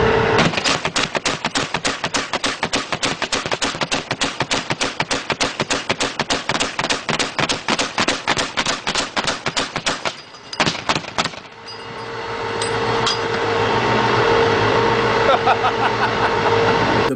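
Bradley fighting vehicle's 25mm Bushmaster chain gun firing at a vehicle, a long rapid burst of sharp, evenly spaced loud shots for about ten seconds, a pause, a few more rounds, then a roaring rumble.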